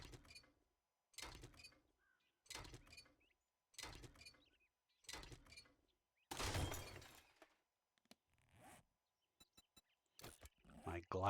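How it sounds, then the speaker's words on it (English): Glass wrench shattering in a video game: a string of short, crisp breaking bursts in steady rhythm, followed by a louder crash and scattered small clinks, fairly close with no talk. "My glass wrench seems to have broken."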